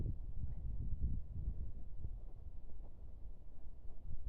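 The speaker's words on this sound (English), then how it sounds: "It's a little windy today." Wind buffets the microphone in a continuous low rumble with gusty swells, no voices present.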